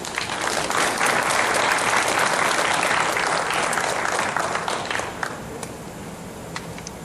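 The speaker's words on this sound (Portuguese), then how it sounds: "Vamos convidar o pastor Gonçalo com salva de palmas" Loud, sustained applause from a church congregation welcoming a pastor, dense and steady before gradually thinning out toward the end.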